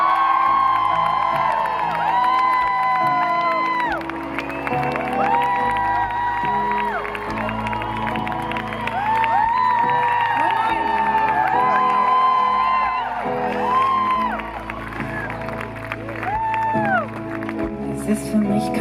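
A large concert audience cheering and whooping to welcome a singer, a loud sustained roar of voices with rising shouts, while music plays and a voice speaks over the crowd.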